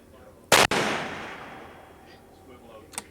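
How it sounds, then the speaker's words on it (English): A sharp, loud crack from a .308 rifle fired off a bipod at a shooting match, followed by a long rolling echo, then a fainter distant shot near the end. "Now keep in mind these guys are shooting 308 rifles"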